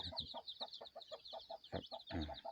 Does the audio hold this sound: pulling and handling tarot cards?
no